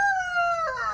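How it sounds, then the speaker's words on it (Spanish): A rooster crows once on a farm of laying hens, a loud, close call with a steady tone that drops in pitch at the end, with no voices. "con su granja de gallinas ponedoras"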